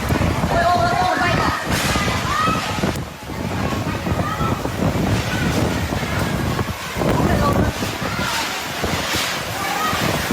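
Storm winds shoving rain and debris into a building in a Vietnamese neighborhood, a loud, continuous roaring wash of wind and water with sudden gusts and scattered knocks.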